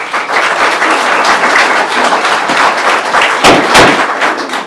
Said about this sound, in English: if we clap every time, we're going to be here all day